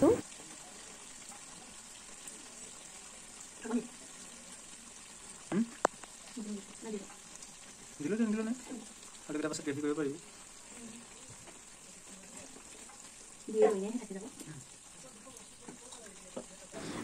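Chopped potatoes tipped into a hot pan and frying, a low soft sizzle with intermittent stirring and scraping bursts, fairly faint and steady throughout.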